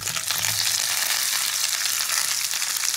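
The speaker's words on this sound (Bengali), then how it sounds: "ফোড়নটা ভেজে নিয়ে এবার ভেজে রাখা সবজিটা আমি দিয়ে দেবো এর মধ্যে।" Vegetables frying with a mustard and radhuni tempering, heard as a dense, continuous bright sizzle at close range with no voices.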